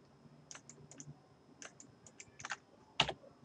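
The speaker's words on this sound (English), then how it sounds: "So I'm just hitting enter after I click those two sides." Computer keyboard keys and mouse clicks in a quiet room, sparse light taps in small clusters followed by one sharper, louder click near the end, with no speech.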